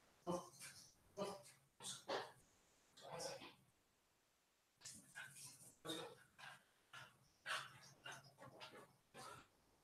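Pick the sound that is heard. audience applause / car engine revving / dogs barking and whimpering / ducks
dogs barking and whimpering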